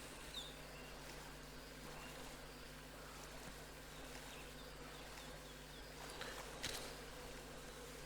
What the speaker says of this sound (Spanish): Estas eran abejas.